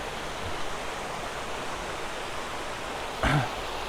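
Steady, broadband rushing of Castle Clough Waterfall in Lancashire, holding constant throughout, with a short louder splash or knock near the end.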